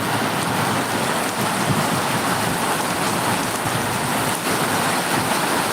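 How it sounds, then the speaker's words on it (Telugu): Heavy summer rain in Bengaluru pours down in a dense, constant roar, loud and unbroken throughout, with no voices. "దాదాపు గంట సేపుగా వర్షం"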